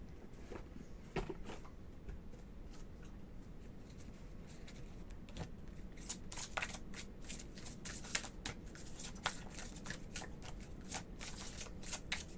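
An oracle card deck, the Oracle des Cœurs Vaillants, is shuffled close up: a steady run of papery riffles and flicks with sharper card snaps, continuous for about twelve seconds with no voices.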